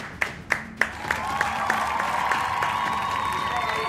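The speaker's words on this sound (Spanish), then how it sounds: "Un fuerte aplauso para José Chavarri, por favor." Studio audience applause for a guest on a Peruvian sports TV show, with a few sharp claps at the start swelling into steady clapping and crowd noise.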